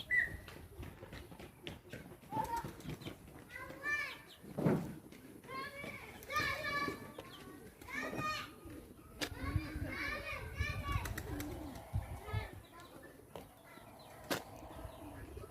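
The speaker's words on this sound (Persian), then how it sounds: "بچه ها سر و صدا خیلی زیاد میکنن" Children shout and chatter loudly and continuously in a bird garden in Qarshahir, with overlapping young voices rising and falling and faint bird calls mixed in.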